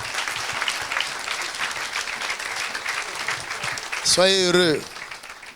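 A congregation claps and applauds during a church sermon, a steady dense crowd clapping throughout, with a preacher's voice rising over it near the end.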